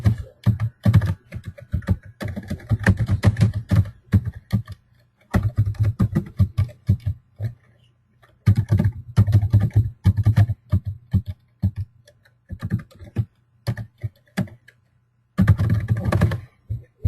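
Guest details are typed on a computer keyboard in quick bursts of crisp, close key clicks, separated by short pauses, with no talking.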